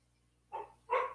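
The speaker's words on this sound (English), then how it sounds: "the dogs are at the door again" Dogs at a door bark twice in quick succession, two short, fairly loud bursts with a brief gap between them and a low steady hum underneath.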